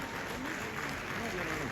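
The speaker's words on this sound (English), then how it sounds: "Can we keep the applause going, ladies and gentlemen?" An indoor audience claps in sustained applause at an awards presentation, a dense even patter of many hands heard close and loud for a couple of seconds.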